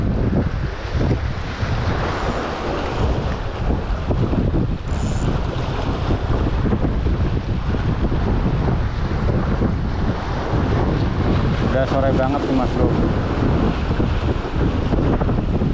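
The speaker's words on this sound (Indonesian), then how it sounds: "tapi angin masih kencang, arus juga kencang." Strong wind blowing at a dam while fishing, a loud, continuous roar buffeting the microphone, with water lapping underneath and someone briefly speaking.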